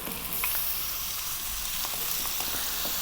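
Pumpkin with garlic sizzles and spits in a pan on fairly high heat, a bright steady hiss with small crackles, close and moderately loud, no talking.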